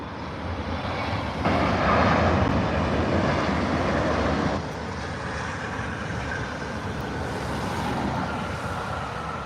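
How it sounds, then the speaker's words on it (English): A Philippine Airlines Boeing 777 arriving from Manila touches down roughly, a steady loud jet roar that rises briefly and then holds, with no voices over it. "Bit of a rough touchdown there from Philippine Airlines."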